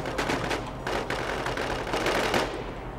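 Video game gunfire in a survival shooter, dense rapid automatic shots in a continuous fusillade with short gaps, fairly loud and close throughout.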